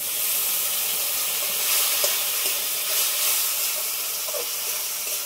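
Spice paste with ginger paste and a splash of spiced water frying in a pan for a tilapia, plantain and potato curry: a loud, continuous close hiss and sizzle, with faint stirring clicks and no voices.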